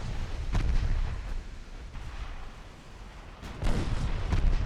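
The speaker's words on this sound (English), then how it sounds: "But we are getting torpedo hits now." Torpedo hits explode on warships in a naval strategy game, several dull, distant booms spaced irregularly over a low rumbling background.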